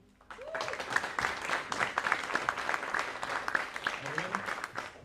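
Audience applause for soloist Evelyn Sugapong at a high school reclassification ceremony, a steady round of clapping from a crowd lasting several seconds, with a few voices mixed in.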